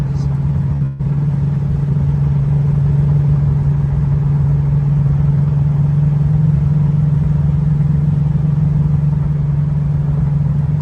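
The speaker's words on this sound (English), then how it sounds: "then I'll turn around and take off and go through the gears" A late-1960s Dodge Charger muscle car's engine drones steadily and loudly nearby, a deep constant rumble holding one pitch with no audible shifting, while a person talks.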